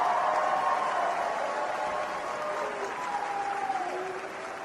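A political rally crowd applauds for the president, a dense, steady wash of clapping throughout, loud and near, with faint voices mixed in.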